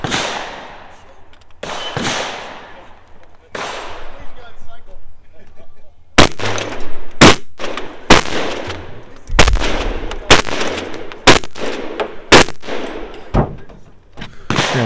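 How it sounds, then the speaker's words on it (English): Shotgun and pistol gunshots at a shooting competition ring out as sharp, loud reports, a few spaced early shots followed by a rapid run of about seven close, evenly paced blasts, with faint talk in the background. "Yeah, so 7 shots there."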